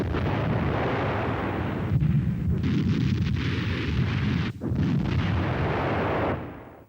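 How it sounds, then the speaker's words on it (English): A battery of German 17cm K-18 heavy artillery guns firing in wartime, heard as a dense, continuous roar of heavy booms and rumbling blasts, loud and close, with one brief dip near the end and no voices. "Support for the Fallschirmjäger is being provided by a battery of 17cm K-18 heavy guns."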